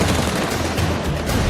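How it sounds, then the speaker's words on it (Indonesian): Corn kernels pop in a covered pan, a dense continuous crackle of rapid sharp bursts at steady loudness with no voices. "Biji-bijiannya meledak di wajan."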